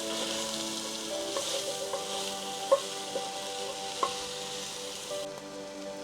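Sweet potatoes and apple cook in a pot for soup, a low, steady sizzle with a few sharp clinks of a utensil against the pot.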